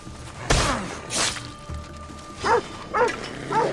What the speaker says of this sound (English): Dogs called us out.